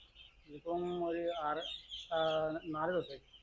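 Broiler chicks in a brooding shed on a Kerala poultry farm peep in a constant high chatter under nearby conversation.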